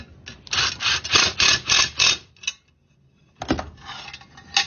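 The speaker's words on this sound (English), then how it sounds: "rattle gun." An impact wrench tightens the nut on a Honda mower blade with a top washer. It fires a run of loud, rhythmic rattling bursts, goes quiet briefly, then gives a second shorter burst close by.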